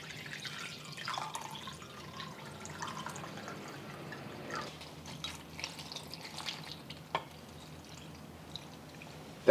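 A cup of water is poured faintly into a pot over Chinese beef stew ingredients with chu hou paste and parboiled beef, giving soft trickling and dripping with a few small splashes.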